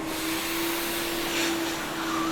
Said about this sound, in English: We're gonna vacuum those fleas, Matisse.